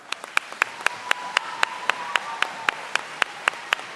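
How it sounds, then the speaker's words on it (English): A few people clap for award winners at a school awards day, sharp, evenly spaced claps that ring out clearly above a quiet room. "Give them a round of applause."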